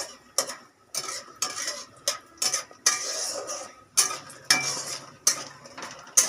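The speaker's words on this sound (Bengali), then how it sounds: "আলু পটল দিয়ে মাছের ঝোল করার জন্য বড়িটা ভেজে নিচ্ছি" Lentil dumplings (bori) fry in a pan with a soft sizzle beneath repeated sharp clinks and scrapes of a utensil stirring against the metal, spaced roughly every half second to second.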